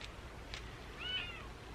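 A cat meows once near the middle, fairly close and clear, over low background hum with no talking.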